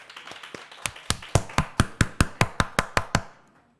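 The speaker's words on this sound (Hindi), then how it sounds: "तालियां मेरे ख्याल से बजानी भूल गए क्या?" Audience at a poetry gathering claps for a poet, starting sparse and quiet, then settling into a steady, moderately loud run of about a dozen sharp claps before stopping.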